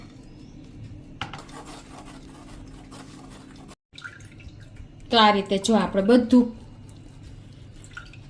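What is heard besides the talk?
straining mint pani puri water through a large sieve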